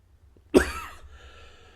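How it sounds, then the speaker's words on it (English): A single sharp cough bursts out close to the mic, followed by a short raspy trailing breath, then quiet. "Sorry for the coughing."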